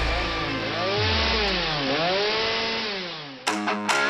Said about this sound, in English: The Dolmette, a symphony of chainsaws on wheels.